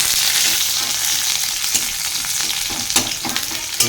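Spices crackling in hot oil as a tempering for dal, a dense steady sizzle with scattered sharp pops toward the end, close and with no talking.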